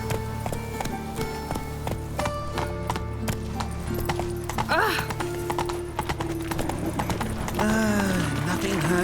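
Roach the horse gallops in The Witcher 3, a steady rapid clip-clop of hooves under game music and ambient sound, with a whinny and other voices and effects mixed in.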